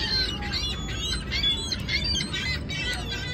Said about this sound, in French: Même les mouettes capotent.